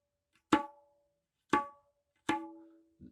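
Three separate drum strokes played with an unstable wrist, about a second apart, each with a sharp attack and a ringing, slightly wavering tone, followed by a faint fourth tap.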